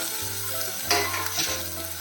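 Onions and tomato sautéing in a pan for chutney, a close hissing sizzle with a couple of louder stirring scrapes and a low hum beneath.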